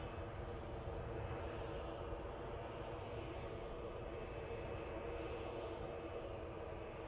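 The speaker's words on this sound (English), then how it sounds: "The Lufthansa in Star Alliance trim, also taxiing out." A Lufthansa airliner in Star Alliance livery taxiing at Edinburgh airport, heard as a steady, distant jet-engine roar that holds at a constant level throughout.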